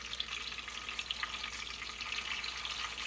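Squirrel meat fries in a pan with a steady, close crackling sizzle and occasional sharper pops, and no voices.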